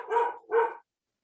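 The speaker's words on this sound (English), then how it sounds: "I'm sorry about the dog." A dog barks twice in quick succession, two close, fairly loud woofs indoors in a home, then silence.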